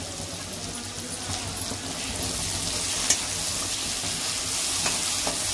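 Gram flour and turmeric mixture stirred in a hot pan on low heat, a steady sizzle with soft scraping from the spoon, continuous and close throughout.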